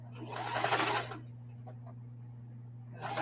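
A sewing machine backstitches a mitered binding on mudcloth, a dense, fast-running stitching burst for about a second, then a low steady hum before the motor picks up again briefly at the end.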